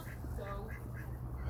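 Ducks quack softly in a short burst of a few calls, faint and low against background noise as they are herded around at night.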